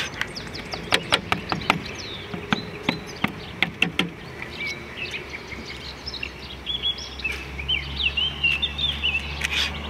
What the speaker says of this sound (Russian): Сейчас вовсю птицы поют, вы слышите, наверное.